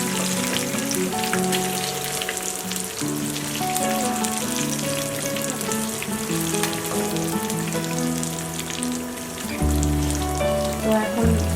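Rui fish fries slowly in a pan with garlic and chili paste, giving a steady, crackling sizzle like rain on a surface. Tuneful background music plays underneath for the whole stretch.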